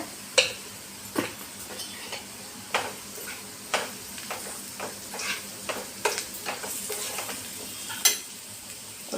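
Garlic, ginger and turmeric fry in a pan for an egg dish, a continuous sizzle with frequent sharp utensil taps and scrapes as it is stirred, close and without speech.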